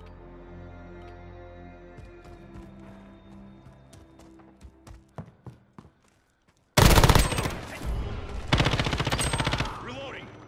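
Gunfire in Call of Duty: Modern Warfare during a 2v2 match: a string of sharp single shots thins out to quiet, then loud automatic bursts suddenly burst in up close and continue in rapid, heavy volleys.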